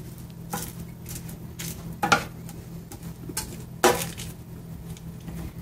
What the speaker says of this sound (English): I'm just going to give those another stir